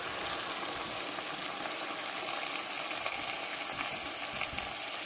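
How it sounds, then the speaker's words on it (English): Steady, even sizzling from mushroom soup frying in a pan, continuous and moderately loud throughout with no voices. "Now I'm going to put this here, mushroom soup, in this frying pan."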